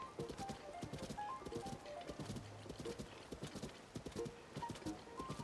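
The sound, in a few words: horse hooves clip-clopping in The Legend of Zelda: Tears of the Kingdom video game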